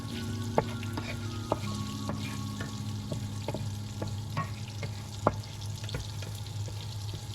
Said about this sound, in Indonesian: ini kita matiin, kita aduk-aduk